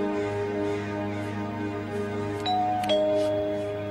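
A steady tonal hum with a two-note electronic chime sounding over it, like a doorbell ringing.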